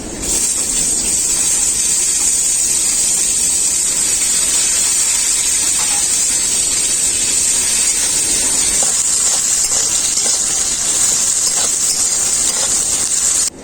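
Sliced onions hit hot oil already seasoned with black cumin, bay leaf and dried red chilli, giving a loud, continuous, close hiss of sizzling that holds steady throughout.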